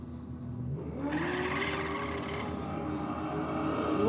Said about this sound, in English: Got the Holden Ute out on a solo pass.